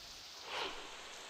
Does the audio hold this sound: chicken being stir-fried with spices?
no